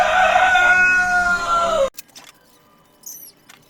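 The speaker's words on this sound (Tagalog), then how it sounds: "ang dami ng manok dito sa loob ng bahay." A rooster crows loudly and drawn out indoors inside a house, then cuts off, followed by a few quieter clucks and chirps from chickens nearby.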